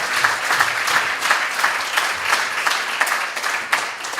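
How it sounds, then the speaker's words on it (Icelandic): Loud, lively applause from an audience at a health institution's science and education day, with rhythmic bursts of many hands clapping close by for the full few seconds. "Gefið henni gott klapp."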